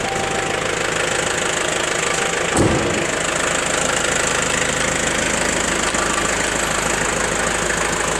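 A first-generation Kia Sportage diesel engine idles with a steady, loud, rough rumble up close, a single brief knock standing out early on and the idle otherwise holding even throughout.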